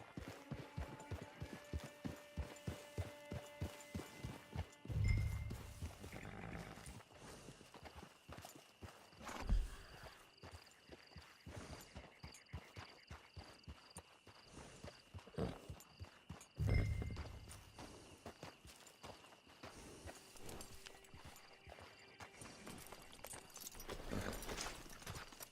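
Horse hooves clip-clop at a steady walking pace in the open-world Western video game Red Dead Redemption 2, a regular close rhythm over background game ambience and music, with a few louder thumps along the way.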